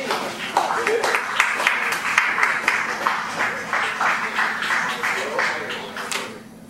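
A live audience applauds and cheers at a math-themed poetry performance, a steady wash of many hands clapping with voices mixed in, then fading out near the end.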